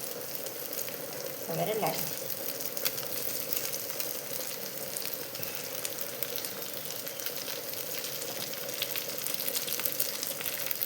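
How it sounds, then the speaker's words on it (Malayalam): Fish frying in a pan gives a steady, close sizzle that crackles throughout, with a brief voice speaking near the start. "അപ്പോൾ എൻ്റെ മീൻ ഫ്രൈ അങ്ങനെ റെഡി ആയിക്കൊണ്ടിരിക്കുന്നതാണ്."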